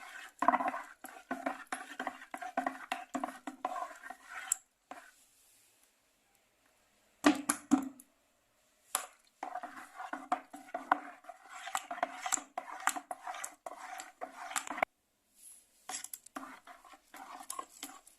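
Liquid detergent being stirred and mixed by hand in a container, with bursts of scraping and clinking from the stirrer against the vessel, broken by short pauses of near silence.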